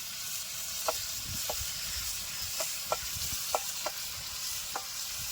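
Onions fry in a pan for a home-cooked curry, giving a steady sizzling hiss with a few light clicks of stirring scattered through it.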